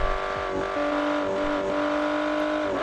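A car engine in the Automation driving game revs steadily with a tonal, simulated drone that shifts pitch slightly as the revs rise and settle, continuous and fairly loud without speech.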